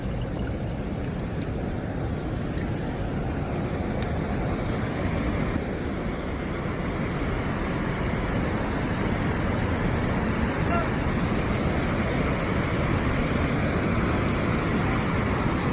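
Steady, dense rush of flowing water fills the whole clip, a constant broad roar without pauses, like a nearby waterfall.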